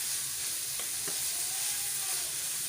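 Minced meat frying with a large tomato and a few chilies in a pan, giving a continuous close hiss and crackle with a couple of faint stirring taps and no speech.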